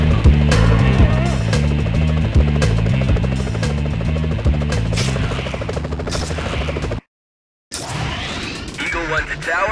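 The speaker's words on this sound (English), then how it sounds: "Police choppers." Police helicopters in a Spider-Man video game, a steady loud rotor chop with game music and effects layered over it, cutting out briefly near the end before resuming.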